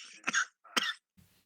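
Two quick throat-clearing coughs from one person, close and fairly quiet, followed by a faint low rustle.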